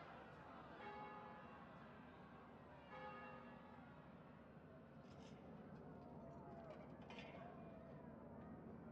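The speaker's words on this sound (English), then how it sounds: "From what feels far away, bells toll above the din." Bells toll in the distance in the video game Banner Saga 3, a few resonant strikes ringing over a dense background din while a voice talks.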